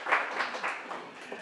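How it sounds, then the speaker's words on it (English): Brief burst of audience applause after a lecture at a summer school, scattered clapping from a modest crowd, fairly close and fading quickly. "give yourself a round of applause."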